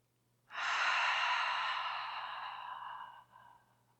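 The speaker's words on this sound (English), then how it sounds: "Exhale through your mouth." One long, deep exhale through the mouth after a nasal inhale, close and breathy, swelling quickly and then fading over about three seconds, with a brief softer puff at the end and no talking.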